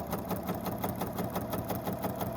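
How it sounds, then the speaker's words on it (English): A 1930s sewing machine hums steadily up close, its needle tapping in a fast, even rhythm without any talking. "I love the sound of this machine. It's so quiet, it just hums along."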